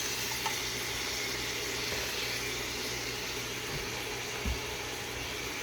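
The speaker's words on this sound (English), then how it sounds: "Start adding in my greens. And I'm going to add them in to one side right now." Collard greens go into a hot pot for a home Sunday dinner, giving a steady, close sizzle and frying hiss that holds evenly throughout with no talk over it.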